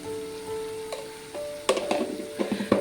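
Spiced egg puff stuffing sizzles in a pan, starting as a low, even frying hiss, then sharp clattering bursts of stirring and scraping break in during the last second, fairly close and with no talk.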